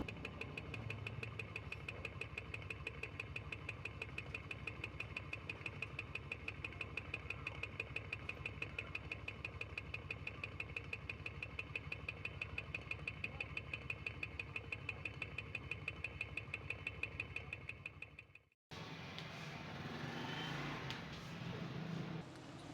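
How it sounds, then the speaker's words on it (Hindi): Small DC motor powered by a flexible solar panel, whirring steadily and continuously for most of the stretch before cutting out abruptly, followed by a short burst of rougher, noisier handling sound. "दोबारा से हम इस डीसी मोटर को इसके ज़रिए चलाते हैं"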